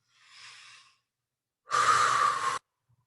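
A person takes a soft breath in, pauses, then blows out one strong, close, breathy exhale as a candle-blessing breath, with silence around both.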